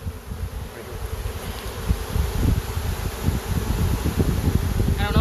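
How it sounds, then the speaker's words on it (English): Honeybee worker bees buzz at a spring hive install in a close, continuous drone. The hum rises and falls slightly over a few seconds, with light rustling mixed in. "These are all worker bees."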